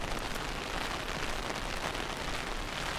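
Heavy rain pours down steadily on the Camino Portugués trail near a flooded riverside path, a dense, loud, continuous hiss of drops striking the ground with no break and no voices.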